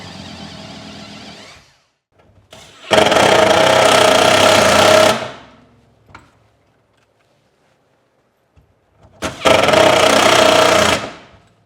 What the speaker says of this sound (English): I'm just screwing through the wood